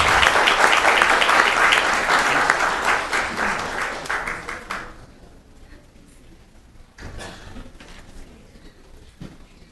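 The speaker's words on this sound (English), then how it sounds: "Parents, you can clap for them." Parents in a city council chamber applaud a squad of Monarch cheerleaders, a dense wash of clapping that holds strong for several seconds and then thins out to a few scattered claps.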